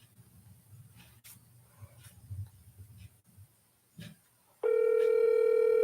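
A telephone sounds with a loud, steady electronic tone that cuts in near the end after quiet rustling and handling noises.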